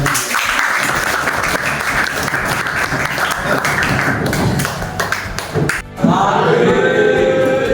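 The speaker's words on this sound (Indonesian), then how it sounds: "Tepuk tangan dulu yang meriah." Loud, dense applause from a large crowd at a school event, sustained for several seconds before briefly dipping, then swelling again with cheering voices.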